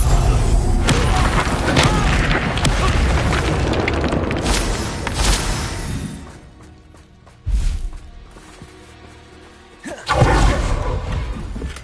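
A Bombarda blast spell in Hogwarts Legacy on PS5: loud, deep booming explosions with rumbling crashes and whooshes that surge, ease off, then hit again in fresh bursts near the end.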